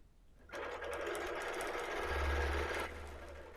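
Sewing machine stitching straight lines across a quilt, one steady close mechanical whir running about two and a half seconds with a low motor hum underneath, starting and stopping abruptly in a quiet room.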